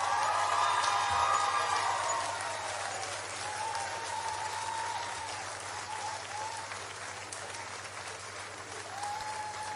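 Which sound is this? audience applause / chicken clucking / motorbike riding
audience applause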